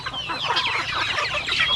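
Farm chickens cluck among a mixed flock of ducks, geese, guinea fowl and turkeys, a busy chorus of overlapping clucks and chatter at moderate distance with no talking.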